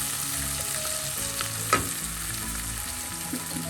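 Onions and beans for a Kerala payar mezhukkupuratti frying in a pan, a steady close sizzle with occasional spoon scrapes and a sharp clink as they are stirred, over a faint low hum.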